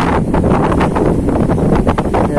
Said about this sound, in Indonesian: Ini anginnya makin kencang tuh mama.